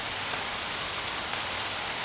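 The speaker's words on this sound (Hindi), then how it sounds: "उस दिन बहुत जोर से बारिश होती है" Heavy rain pours down steadily, a dense, even hiss of drops on surfaces with no pauses, loud and close throughout, with no voices.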